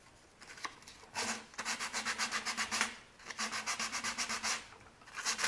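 Sandpaper rubs along the edge of a wooden harvest box in quick back-and-forth strokes, a close, steady rasping rhythm in bursts with short pauses and no voices.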